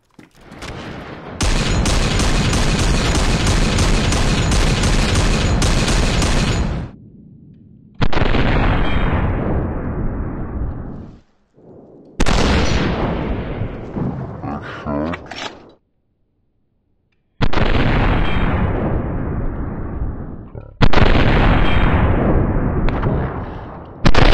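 Heavy gunfire in the DayZ Standalone video game, including a CheyTac M200 sniper rifle, comes as long loud sustained bursts of rapid shots broken by short pauses and a few separate volleys.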